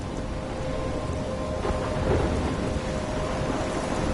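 A thunderstorm in the video game Life is Strange: steady heavy rain and a constant roar of wind, with a low rumble of thunder swelling near the middle.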